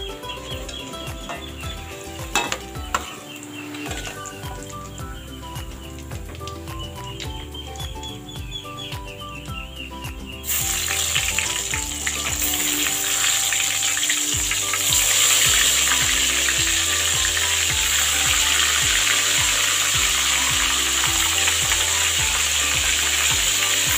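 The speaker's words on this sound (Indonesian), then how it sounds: "Ini aku goreng tahu ya teman-teman. Jadi goreng tempenya udah selesai," Tofu frying in a pan of hot oil after tempeh, a dense, close, continuous sizzle that grows louder and brighter partway through, with no talking.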